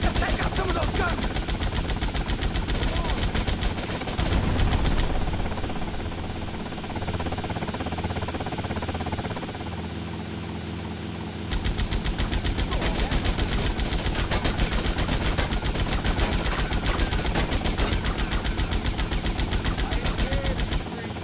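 Dense bursts of automatic gunfire in the GTA Vice City Definitive Edition game rattle almost continuously, loud and close, with a short lull in the middle before the shooting resumes, over a background music bed.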